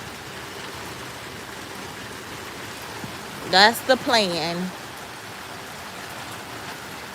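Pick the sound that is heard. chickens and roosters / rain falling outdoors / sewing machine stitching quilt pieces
rain falling outdoors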